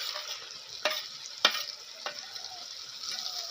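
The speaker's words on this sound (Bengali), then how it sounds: "দিয়ে এখন মাংসটা ভালো করে ভাজি নেবো আর একটু মশলাটা।" Pigeon meat frying in a pan with onion, cumin and garlic paste, giving a steady hiss with a few sharper crackles and stirring scrapes, close and moderately quiet, with no talk.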